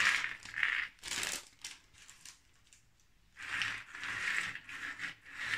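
A resealable plastic bag full of wooden puzzle pieces from the Curiosi brand is handled up close, with crinkling plastic and clattering pieces in bursts separated by a brief quiet pause.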